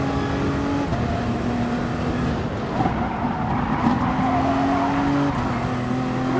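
Race cars in the GT Sport racing game skid and squeal their tires amid a pack of loud, close engine drone, with revving rising and falling throughout and no voices.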